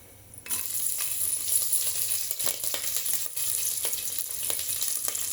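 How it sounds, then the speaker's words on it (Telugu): Green chillies sizzle in hot oil in a pan with earlier-added ingredients, a steady crackling fry with occasional small clinks, close and moderately loud. "ఇప్పుడు ఇవి కొంచెం వేగిన తర్వాత పచ్చిమిర్చి వేస్తున్నాను."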